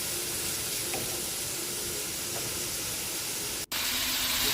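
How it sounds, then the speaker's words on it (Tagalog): Squid frying in hot oil in a pan: a continuous, even sizzle and hiss throughout, close and steady, cut by one very brief dropout, with no talking. "ilalagay na natin ang ating puset para po maluto po siya sa mantika"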